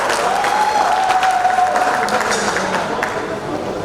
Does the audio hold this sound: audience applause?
yes